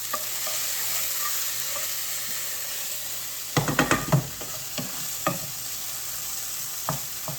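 Cheap sausage browning in a pan with a little tomato sauce sizzles steadily and close, broken midway by a burst of stirring and scraping, then a few spaced spatula clacks.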